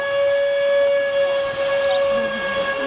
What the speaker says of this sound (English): I'll just wait for that siren.